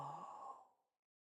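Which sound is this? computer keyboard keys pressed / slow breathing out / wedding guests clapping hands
slow breathing out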